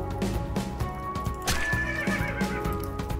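A horse in Minecraft, taking damage, whinnies and snorts in distress over rhythmic clip-clopping hooves, loud and close, with a steady electronic backdrop.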